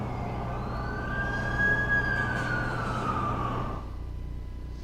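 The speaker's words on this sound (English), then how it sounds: "That's the ambulance I called." An ambulance siren wails with a rising and falling tone over a low engine rumble, fairly close and steady, then cuts off abruptly near the end.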